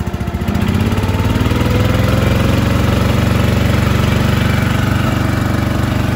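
Small engine with a choke, likely a trenching machine on a homestead, catches and then settles into a steady, loud, close idle with a constant rumbling drone. No one speaks.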